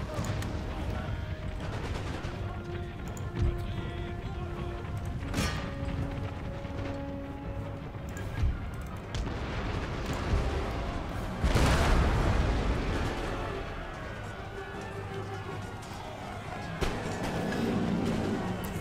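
Cannon fire with canister shot in Empire Total War, a battle against camel nomads: heavy booming volleys and crackling musketry spread across a continuous din, with one big low blast near the middle.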